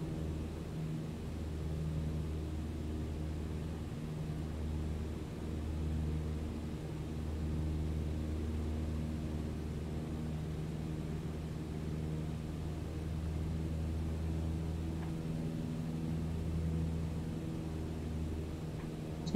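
Aircraft engine droning steadily in Microsoft Flight Simulator 2020 video game cockpit: a continuous low hum and rumble with a faint hiss, unchanging throughout, no talk.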